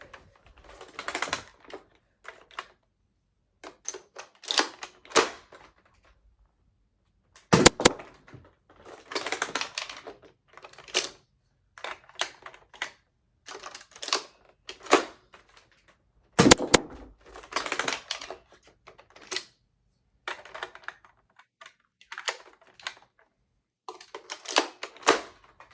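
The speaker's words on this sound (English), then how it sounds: "And here is the firing test." A Nerf Sledgefire blaster shot repeatedly in a firing test, giving sharp snapping bursts with short pauses between, each shot followed by quick mechanical clacks of reloading and priming, close and fairly loud, with no talking.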